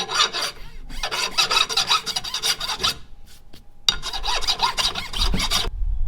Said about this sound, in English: So now I'm going to file this flush.